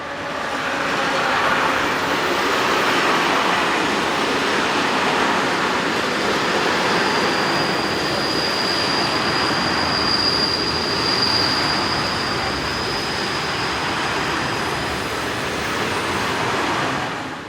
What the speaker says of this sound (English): 1307 and 1326 arrive from the east with a loaded train of rails.